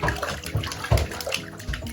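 A puppy paddling during its first swim, making close splashing and sloshing water sounds in uneven bursts, with no talking.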